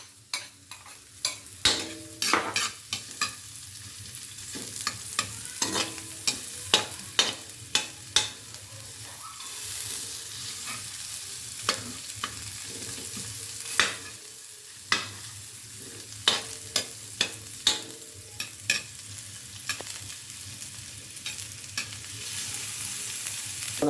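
Garlic and onion sauté together in a hot pan for spaghetti, a steady close sizzle punctuated by frequent sharp scrapes and taps of a spoon stirring, with no talking.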